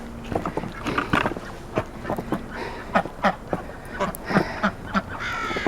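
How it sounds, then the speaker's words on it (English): Ducks quack repeatedly in short bursts in a snowy farmyard, with other poultry, turkeys and chickens, nearby; the calls come fairly close and loud over steady outdoor background noise. "let's see how our ducks are faring"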